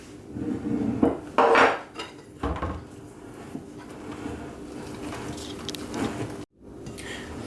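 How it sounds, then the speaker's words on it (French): Cake batter with melted butter being mixed in a bowl, with clattering spoon-on-bowl knocks and scrapes in irregular bursts, some louder strokes, and quieter stirring between. "Je vais finir de mélanger donc au fond pour m'assurer qu'il ne reste pas de farine."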